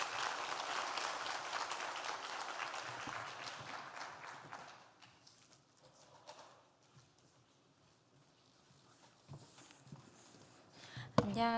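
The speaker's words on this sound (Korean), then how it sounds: "여러분 나오실 때 큰 박수로 환영해 주시겠습니다." A church congregation applauds during a Sunday service, a dense crowd clapping that fades out after about four seconds into quiet room noise, with a faint thump near the end.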